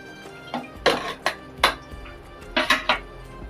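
A pressure cooker holding tomato rice is opened after its steam is released: several sharp metallic clanks and knocks of the lid and pot, close and distinct, in two quick clusters with no talk.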